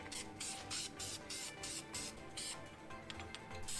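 Short bursts of VHT engine spray paint hiss onto an engine block in light back-and-forth coats, a rapid series of about ten quick, fairly close sprays with brief gaps between them.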